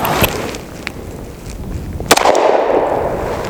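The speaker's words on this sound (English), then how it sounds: "Glock Model 30, 45 auto" Glock Model 30 pistol firing .45 Auto Underwood Xtreme Penetrator rounds outdoors, sharp cracks with the loudest near the end followed by a lingering tail, no talk.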